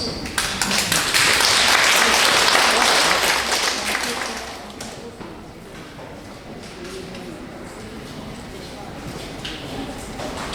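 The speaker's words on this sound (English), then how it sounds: "Please give them a big round of applause." Audience applause for high school student presenters at an SDGs conference fills the room for about four seconds, then thins into scattered claps and room noise.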